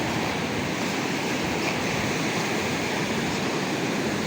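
Ocean surf washing steadily along a coastline with strong currents, a continuous close roar of breaking waves with no voices.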